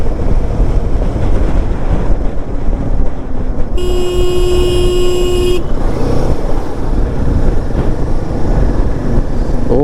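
Steady roar of highway traffic, tourist motorbikes and cars rushing past a bike rider near Taki, with a loud sustained horn blaring for a couple of seconds in the middle.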